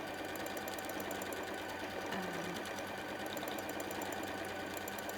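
A sewing machine free-motion quilts pebble shapes into a bleachwork floral fabric piece, whirring steadily and continuously at close range with no pauses or voices.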